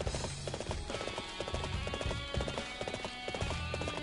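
Horse hooves clip-clop in a steady rhythm while riding in the Dynasty Warriors 7 video game, with an occasional neigh, all against continuous game music and no talk.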